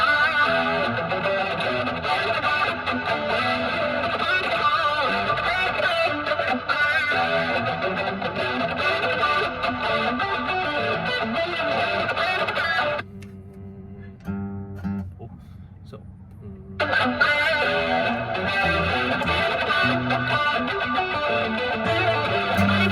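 A heavily distorted electric guitar plays a dense, driving riff, pausing briefly to a thinner, quieter passage before the full crunchy tone returns.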